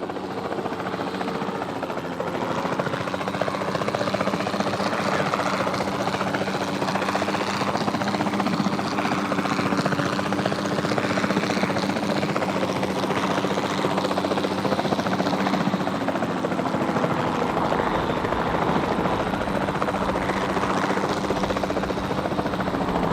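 A capture team helicopter flies steadily in the video game Jurassic World Evolution 2, its rotor drone and engine buzz continuous and loud throughout.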